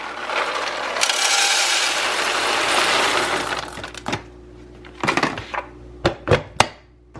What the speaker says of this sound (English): One thing we always do is fill up the machine with beans.